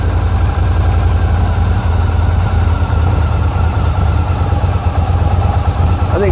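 Motorcycle engine idling through its stock exhaust pipe, a loud, steady low rumble that stays even throughout, close to the bike.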